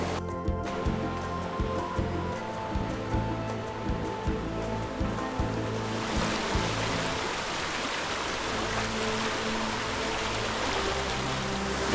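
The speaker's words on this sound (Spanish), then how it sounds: "Es un río de montaña" A cold mountain river near Guadalest on the Costa Blanca rushes as a steady broadband wash, with some irregular clicking and tapping early on before the flowing water dominates.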